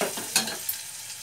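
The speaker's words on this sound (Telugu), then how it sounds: "ఇప్పుడు ముందుగా ఆడిపెట్టుకున్న మసాలా ముద్ద ఇది బాగా వేగనివ్వాలండి." Masala paste frying in oil in a pan while being stirred, a short close crackling sizzle with a couple of scraping stir strokes, no talk.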